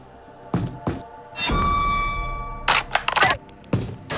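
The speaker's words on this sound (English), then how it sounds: "Actually, that's not a bad sounding reload, to be fair." A weapon is reloaded in the Xenonauts video game: a couple of sharp mechanical clicks, a ringing metallic slide, then a quick cluster of clacks and snaps, close and distinct.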